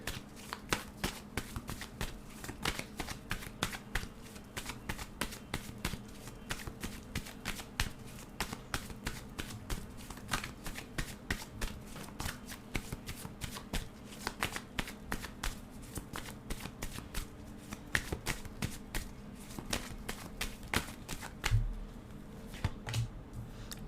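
Tarot deck shuffled by hand at close range, a steady rapid riffle of card flicks running continuously with faint low background hum and no talk.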